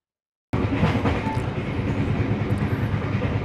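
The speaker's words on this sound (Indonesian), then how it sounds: "kereta Sri Tanjung akhirnya meninggalkan stasiun Lempuyangan, memulai perjalanan menuju ke ujung timur Pulau Jawa" The Sri Tanjung economy passenger train rumbles steadily departing Lempuyangan station in Yogyakarta after a brief silence, a dense low mechanical roar with faint squeals, close by.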